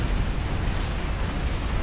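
A heavy plasma cannon in the strategy game Beyond All Reason fires and detonates, producing a dense, sustained roar of explosions that stays loud and rumbling throughout.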